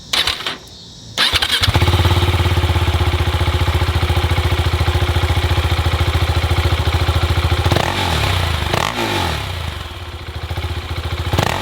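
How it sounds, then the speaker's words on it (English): A 1979 Yamaha XS1100 motorcycle fires up warm after a brief quiet moment, settling into a loud, steady, close idle, then a few quick throttle blips rise and fall near the end. "give you a warm start with a few revs"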